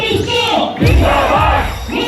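Loud crowd hooting and cheering at the Suchetgarh border retreat ceremony in Jammu, rising in a couple of surging roars over about two seconds.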